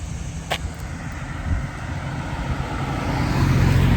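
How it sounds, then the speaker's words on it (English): A car passes on a neighborhood street, its engine and tire rumble building steadily louder over a few seconds as it draws near, with no talking. "there was a car that wasn't freaking moving over and was scaring the crap out of me"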